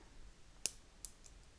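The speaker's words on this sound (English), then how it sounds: "I'm going to snip off this wire right here" Flush cutters snip craft wire on a bracelet jig, giving a sharp, close click followed by a second softer snip, in quiet surroundings.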